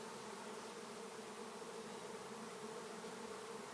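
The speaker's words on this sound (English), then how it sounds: "So if you're ever in a bee swarm, don't panic, just don't move" A swarm of bees buzzes in a dense, continuous drone that fills the air evenly, steady and unbroken throughout, with no talking.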